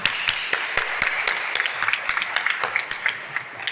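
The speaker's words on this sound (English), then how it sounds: "an applause to Carmen" Audience applause at a longevity summit in Madrid, a steady wash of many hands clapping with sharp individual claps popping out, fairly close and continuous without speech.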